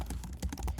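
Keys clatter in a quick run of close, crisp taps as code is typed on a computer keyboard, no voices.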